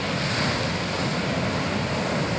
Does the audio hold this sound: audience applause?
no